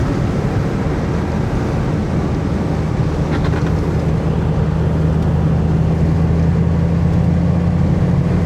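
Steady wind roar and low road rumble fill the cabin of a 2003 Dodge Viper while driving with the window down, a constant loud wash with a faint engine drone underneath.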